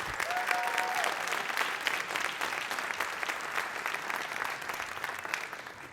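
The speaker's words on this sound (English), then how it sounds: "How about another big round of applause for all of our soloists?" Steady applause from a school band concert audience for the soloists, dense clapping sustained for the full stretch at an even level, with a brief whistle near the start.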